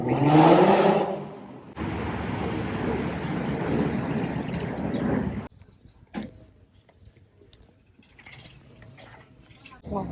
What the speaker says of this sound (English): every car that passes by revs